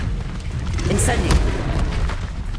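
Incendio fire spell cast in Hogwarts Legacy, a loud low booming burst with a bright crackling flare midway, set over a steady rumbling game bed.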